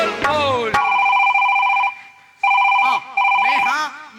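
Mobile phone ringtone going off during a Chhattisgarhi comedy nacha stage show: a steady electronic ring repeating in loud bursts with short gaps, with voices speaking over the start and end.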